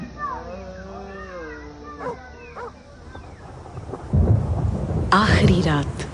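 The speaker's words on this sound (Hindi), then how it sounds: "रात के 8 बजे तक जंगल में बारिश होने लगी और दूर बिजली चमकने लगी।" A thunderstorm sound effect for a Hindi horror story set in a forest at night: after a voice speaks, a deep thunder rumble rolls in and heavy rain then hisses loudly and steadily.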